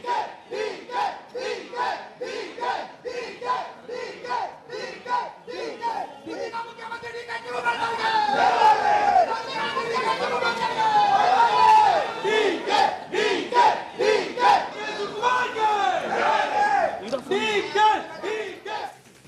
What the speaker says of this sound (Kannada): ಮುಂದಿನ C M D K Shivakumar ಅಂತೇಳಿ ಜೈಕಾರವನ್ನು ಹಾಕೋದಕ್ಕೆ ಮುಂದಾಗ್ತಾರೆ